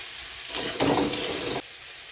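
Chilli powder and spices hiss and sizzle in hot oil in a pan during a home-style hilsa and puishak cooking session, a brief loud burst of frying that rises and then drops back to a low background hiss.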